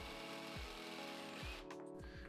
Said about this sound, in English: Once the piece was on the lathe, I started roughing down the corners to get it nice and circular